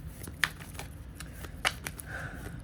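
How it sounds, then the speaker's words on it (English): A deck of tarot cards is shuffled once up close, giving a few short papery riffles and snaps separated by quiet gaps, with no talk. "I do one shuffle so y'all can see in front"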